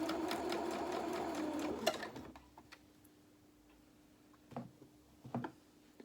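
Sewing machine stitching corduroy fabric, a fast, close mechanical whirring chatter for about two seconds that stops abruptly, followed by quiet with a faint hum and a few light clicks.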